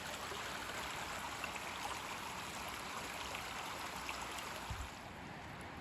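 Swollen floodwater streams steadily under a bridge in a continuous broadband rush, close and even throughout with no talk.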